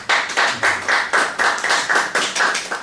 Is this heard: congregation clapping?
yes